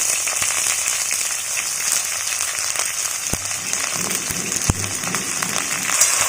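Sliced snake gourd sautéing in hot oil in a pan, a loud continuous sizzle with occasional sharper crackles and spits, no talk.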